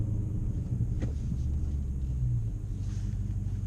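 A Dodge Hellcat Charger's engine gives a brief rev while driving in a snowstorm, a steady low rumble that swells slightly and then settles, heard from inside the car with no talking.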